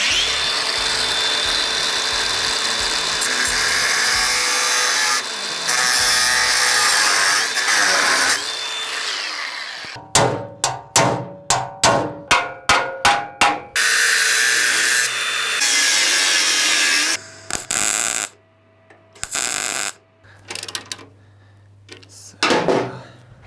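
Angle grinder cutting sheet metal out from beneath a Ciao moped frame: a long, loud whine gives way to a run of quick, choppy bursts, then more sustained cutting that stops and starts near the end.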